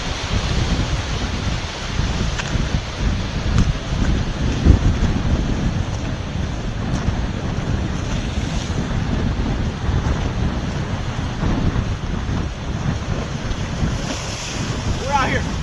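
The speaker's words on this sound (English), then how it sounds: "Get some of the waves crashing in the background." Waves crash and surge along the shore at Cedar Key, Florida, during Tropical Storm Debby, a steady loud roar of surf mixed with heavy wind buffeting the microphone throughout.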